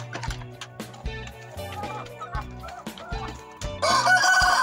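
Backyard hens being fed, clucking and murmuring close by in a busy, overlapping chorus, with a louder burst of squawking toward the end.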